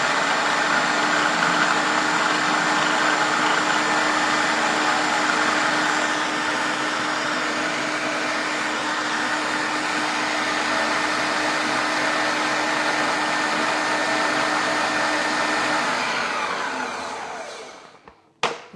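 A Magimix food processor whirs continuously as it blends sundried tomato pesto, a loud, steady motor drone that holds for most of the stretch, then winds down and stops abruptly near the end.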